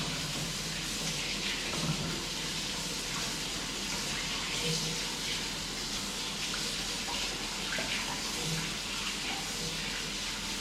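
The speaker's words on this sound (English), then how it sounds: "if you've got a sink right next to you, just wash your hands" Hands being washed under a running kitchen sink tap while making potato and ricotta gnocchi, a steady close rush of water running throughout with faint movement in the stream.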